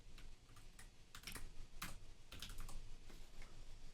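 Computer keyboard being typed on to enter a Linux unzip command, heard close up as quick irregular bursts of clicky keystrokes with brief pauses between them and no talking.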